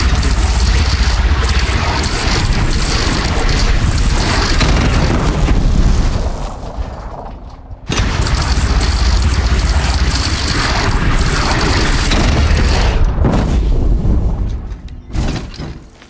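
Cannon fire from a city arsenal in the video game Horizon Zero Dawn, with heavy, loud booming blasts that fill the clip, dropping briefly before another sustained roar of explosions.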